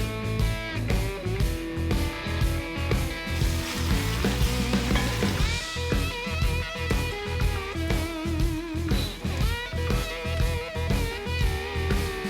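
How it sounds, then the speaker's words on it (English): Smoked beef pieces sear in a hot pan for a smoked chili, giving a steady broadband sizzle that runs through the whole stretch beneath prominent rhythmic background music. "Now we're gonna see if we can get a sear on it too."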